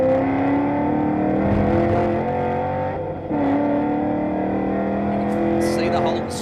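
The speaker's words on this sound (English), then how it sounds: "You can see the Holden stretching its legs just a little down the longer straights" Holden and Ford V8 utes racing at Winton Motor Raceway in the 2009 Australian V8 Ute Racing Series, their engines giving a loud, sustained roar with a brief dip, while a commentator talks over it.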